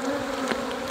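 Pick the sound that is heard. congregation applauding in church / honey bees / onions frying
honey bees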